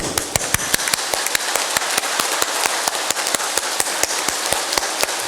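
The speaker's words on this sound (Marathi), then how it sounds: "जोरजोरात टाळ्या वाजवायच्या असा हात करायचे आणि जोरजोरात एक दोन तीन फुल स्पीड" A group claps hands hard and fast in a steady, even rhythm of sharp, loud claps with no breaks during a guided laughter and exercise session.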